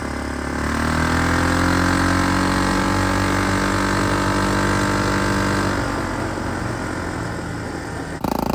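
A single-cylinder ATV engine fitted with a V-twin lawnmower exhaust idles loudly and steadily up close, a continuous rumbling drone that dips slightly in pitch partway through.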